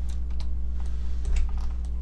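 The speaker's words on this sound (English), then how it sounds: "now I'm pressing the arrow keys on my keyboard" Computer keyboard keys tapped in a quick scattered series, likely arrow keys, moderately close over a steady low electrical hum, no talking.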